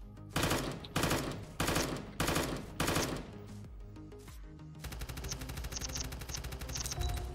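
Video game gunfire in Voxiom: five heavy bursts ring out in a steady rhythm, then a rapid, sustained automatic stream of shots runs loud to the end.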